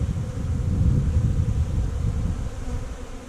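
A thick, loud swarm drone from honey bees in a hive swells and then eases slightly, with a little wind rumble underneath.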